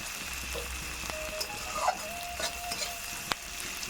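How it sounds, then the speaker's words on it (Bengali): Onions fry gently in a pan, a soft steady sizzle with light stirring scrapes and occasional clicks, close and fairly quiet with no talk; a thin high insect-like tone hums in the background. "তো এই পেঁয়াজগুলো সামান্য ভাজা করে নিচ্ছি"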